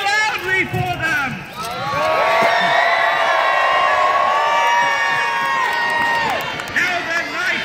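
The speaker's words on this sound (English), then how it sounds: "let me hear you cheer really loudly for them." A crowd cheers loudly at a jousting show, a sustained roar of shouts and whoops swelling and holding for several seconds before easing off, with voices calling out around it.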